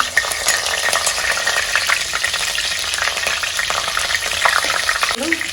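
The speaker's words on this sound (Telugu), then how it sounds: "నూనె కొంచెం వేడి అయినాక ఆవాలు రెండు మూడు ఆవాలు వేసింది జీలకర్ర మిర్చి" Mustard seeds, cumin and chilies fry in hot oil, a loud, dense crackling sizzle close up, with stirring and a spoon clink near the end, no talking.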